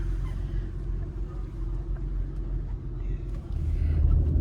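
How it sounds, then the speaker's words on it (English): A car being driven gives a steady low rumble from inside the cabin, fairly quiet at first and growing louder near the end, with no talking. "I'm gonna start driving."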